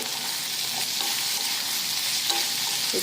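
Tomatoes and mixed vegetables sautéing in a kadhai for a quick vegetable pulao, giving a steady, close, hissing sizzle with occasional soft scrapes of stirring and no voices.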